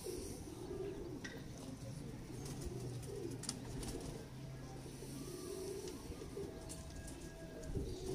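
Breeder pigeons, a ringed male paired with a hen, cooing in soft low repeated calls, close by and steady over a constant background murmur, with a voice faintly present.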